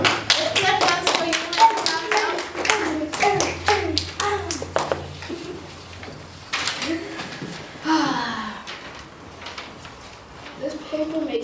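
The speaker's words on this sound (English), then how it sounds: "Let's clap hands for you" Children in a classroom clap their hands for a classmate called up to present a paper, producing a run of sharp, close claps over about six seconds that trail off, with young voices talking over and after them.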